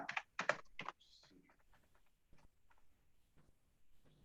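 Computer keyboard typing while writing Python code: a fast burst of loud, close clicks at the start, then lighter scattered keystrokes continuing alone at a softer level.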